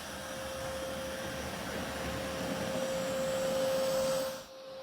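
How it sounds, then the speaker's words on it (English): A Narwal Freo Z10 robot vacuum runs on its strongest suction setting, a loud steady whine with a constant tone that cuts off abruptly near the end. "here I turned on super powerful suction"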